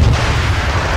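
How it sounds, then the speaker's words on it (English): Artillery fire in the Men of War: The Molotov Line strategy game, a loud, close, deep booming rumble that fills the whole second with no talk. "Nice hit there with the artillery."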